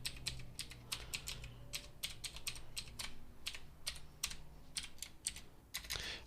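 Rapid, irregular clicks of a computer keyboard as Python code is entered, keystrokes arriving in quick bursts with brief pauses, close and moderately loud over a low steady hum, no voices.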